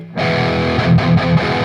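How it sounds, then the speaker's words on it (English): Distorted electric guitar chugging tight, palm-muted chord hits, a short rhythmic burst of dead, choppy strums. "Palm muting would sound like this."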